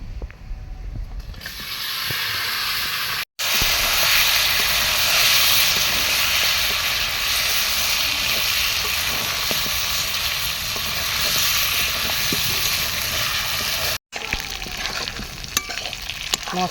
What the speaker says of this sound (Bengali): মশলা দিয়ে মাংসটা কিছুক্ষণ নাড়াচাড়া করে নিয়েছি